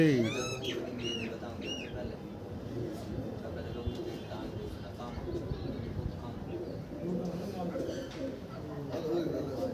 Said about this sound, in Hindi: सफ़ेद कबूतर है